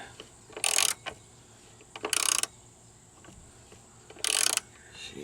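Ratcheting on a rear shock bolt of a Pontiac Aztek, three short bursts of rapid metallic clicking separated by quiet pauses, close and fairly loud against a faint background hum.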